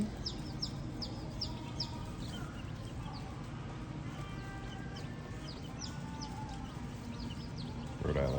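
Baby chicks peep in a brood pen at a Tractor Supply farm store, a steady scatter of faint, high, quick chirps over a low indoor hum.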